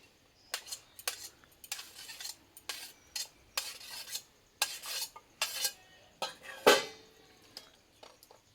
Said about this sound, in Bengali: বড় সাইজের একটা আলু আলুটা কেটে ধুয়ে রেখেছিলাম দিয়ে দেবো আমি